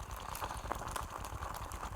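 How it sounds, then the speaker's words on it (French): Food sizzles and crackles on hot metal amid heavy smoke, a close, busy bubbling hiss with scattered sharp pops throughout. "Je pense qu'en plus là vous entendez bien les grésillements."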